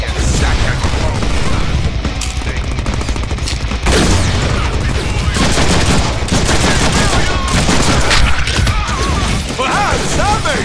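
Rapid gunfire from the Deadpool video game, loud and sustained throughout, mixed with crashes, mechanical clatter and a dense battle din.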